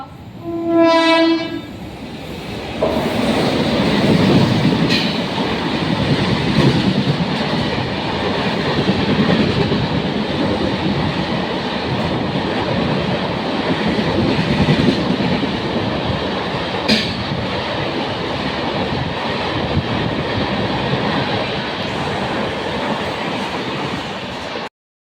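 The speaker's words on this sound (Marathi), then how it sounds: "एक जलद गाड़ी जाने वाली है. कोई यात्री रेलवे लाइन पार न करे." A fast express train passes through an Indian railway station: a brief horn blast opens, followed by a long, loud, steady rumble of wheels and carriages with sharp clacks over the rails.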